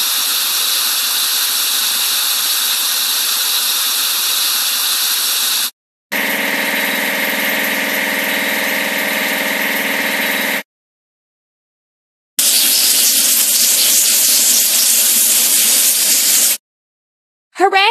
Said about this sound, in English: We need to wash the fertilizer sprayer truck.